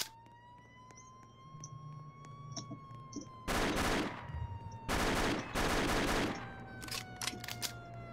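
AK rifle gunfire in the Roblox game ER:LC, with several loud sustained bursts of rapid automatic shots in the second half, over a steady game hum and a wavering siren-like tone.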